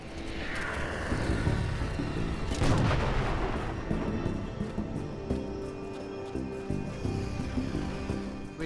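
Heavy gunfire and explosions in the Halo: Spartan Strike video game, with booming blasts, rolling artillery-like rumbles and rapid shots layered densely over a sustained roar, with no voices.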